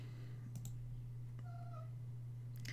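A cat gives a short, faint meow over a steady low electrical hum, with a few soft clicks before and after it.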